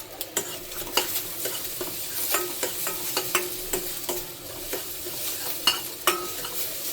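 Salted egg for an omelet fries in a pan with a soft, continuous sizzle, punctuated by irregular clicks and scrapes of a utensil stirring against the pan, fairly quiet and close.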